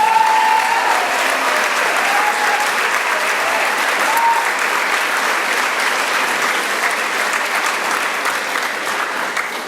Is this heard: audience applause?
yes